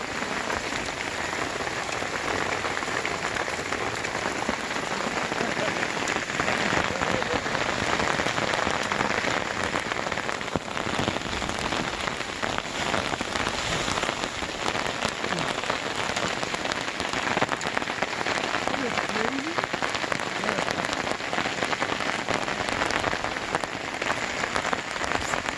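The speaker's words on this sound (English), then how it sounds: "It's hail. This is not snow." Hail pelts down on Memorial Day 2020 and piles up on the ground, making a dense, continuous rattling patter that holds steady and close throughout, with no one speaking.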